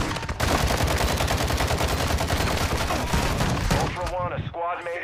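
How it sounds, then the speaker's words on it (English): Video game gunfire, a loud, rapid, sustained burst of automatic shots for about four seconds that breaks off into a voice speaking. "You are taking effective fire"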